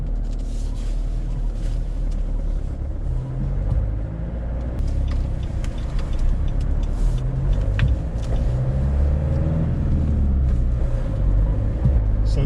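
A manual-transmission truck drives along a road, giving a steady, continuous low engine rumble with road noise throughout and no talking.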